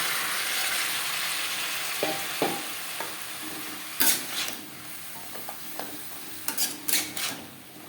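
Papaya and vegetable stalks are stirred in a hot pan for a coconut-paste vegetarian curry, with a soft constant sizzle and scattered metallic scrapes and clinks of a spatula against the pan.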